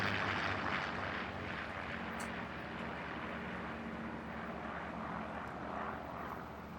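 Propeller planes in Farming Simulator 19 drone steadily overhead, a constant engine hum and airy whoosh holding at an even level throughout, with no voices.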